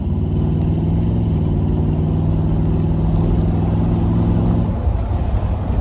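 1976 Corvette Stingray engine pulling off on a cruise, a loud, close, throbbing low rumble with a steady firing rhythm that eases near the end.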